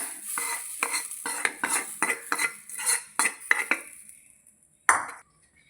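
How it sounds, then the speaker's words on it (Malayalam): A spoon stirs chili and coriander powder for green peas curry in a metal pan, giving rhythmic scraping clinks that fade out, followed by one final sharp knock. "പച്ചമണം മാറുന്നവരെ ഇളക്കി കൊടുക്കാം"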